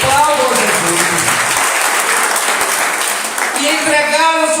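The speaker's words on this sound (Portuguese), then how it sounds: "Aplauda Jesus." A church congregation bursts into loud, sustained applause during a worship service. A dense wash of clapping holds steady for several seconds, and a voice rises near the end.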